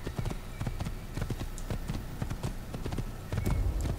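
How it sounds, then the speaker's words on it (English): Horse hooves galloping in the video game Assassin's Creed, a steady, quick clip-clop rhythm of repeated hoof strikes running throughout, fairly loud and close with no one talking over it. "So let's just ride this horse."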